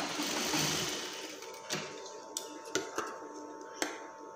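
A sewing machine stitches a Shanghai collar on lace burkat fabric, a brief close whirring run at the start followed by scattered sharp clicks and knocks as the work is handled.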